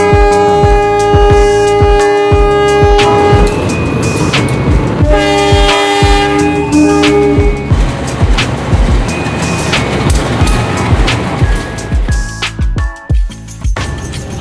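Vintage CC 203 locomotive hauling a Pramex passenger train, loud and close, with steady rumbling wheels and clattering over rail joints, the horn sounding in long sustained blasts through the first half.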